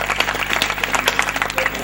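Brief burst of audience clapping at a Hindi poetry recital, a dense patter of hands heard close with a steady low hum beneath.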